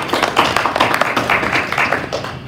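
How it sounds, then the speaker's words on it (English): An audience at a Sunday church celebration applauds in a brief burst of dense, close, lively clapping that stays loud and even throughout. "let's give her another round of applause"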